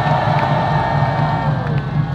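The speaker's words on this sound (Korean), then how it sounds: "우리 조원진 대표님께 큰 박수 부탁드리겠습니다" A crowd at a Korean political party briefing applauds and cheers for its leader, a sustained, dense roar of clapping and voices with a low hum underneath, fairly loud and continuous.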